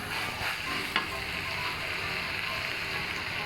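Pork with holy basil leaves stir-fries in a hot pan, giving a dense, even sizzle up close with a faint tap from the spatula, no talk over it.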